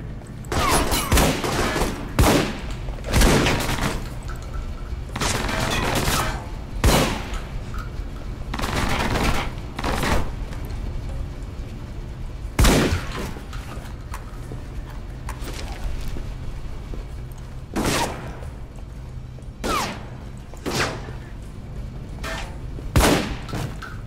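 Gunfire in the video game Alpha Protocol: loud, close bursts of automatic fire and single sharp shots in irregular clusters, with short pauses and a low rumble between them.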